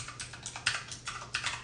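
Quick keystrokes clatter on a computer keyboard in short, uneven bursts of clicks, close and fairly quiet, with no voices.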